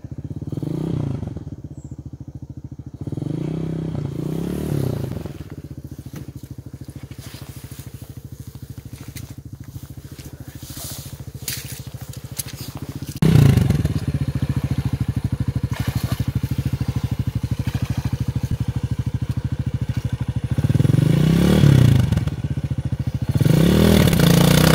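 A Minsk X250 motorcycle stuck in mud, its engine idling steadily and then revving hard in repeated loud bursts, the strain rising sharply partway through and staying loud to the end.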